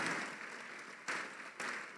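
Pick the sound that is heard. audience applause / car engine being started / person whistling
audience applause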